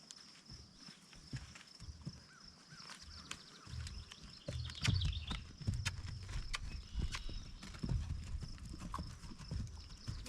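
A horse canters in a training session, its hoofbeats thudding in a steady rhythm at moderate distance against a quiet background, growing louder midway.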